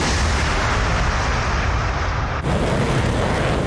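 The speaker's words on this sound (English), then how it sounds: "Missile launch again." A surface-to-air missile launching in an air-defence simulation game, a loud sustained roaring rush that fills the whole clip with a brief dip partway through.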